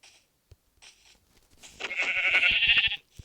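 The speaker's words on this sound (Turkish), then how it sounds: "Şurada da koyun var." A single drawn-out, wavering bleat of a Minecraft sheep, loud and close, preceded by a few soft clicks and short quiet sounds.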